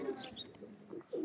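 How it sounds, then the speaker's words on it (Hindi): Soft cooing and brief chirps from a Sialkot black-faced pigeon, a crossbred bird, heard close and fairly quiet in a short burst. "ये कबूतर भी सियालकोट का काले मुंह वाला कबूतर है"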